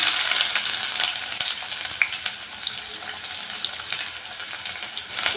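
Continuous crackling sizzle of onions frying in hot oil, close and busy, with occasional stirring scrapes and no talking.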